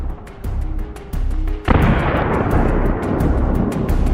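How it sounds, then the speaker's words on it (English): A Russian infantry fighting vehicle, hit and burning, explodes with a sudden loud blast of broadband roar that keeps rumbling and crackling for seconds, with repeated sharp bangs of detonating ammunition throughout. "the Russian IFV caught fire and soon exploded."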